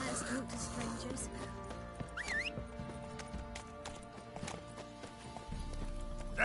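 Roach the horse's hooves clip-clop in a steady rhythm, sounding close, while a brief whinny and game music play and voices talk over them. The horse is galloping in The Witcher 3.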